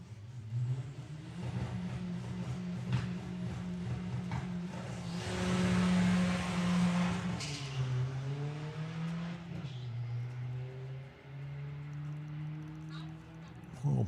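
Porsche drag car launching down the strip at a drag racing event, engine roaring up through gears with a loud surge midway then easing off as it recedes, with an announcer talking over it.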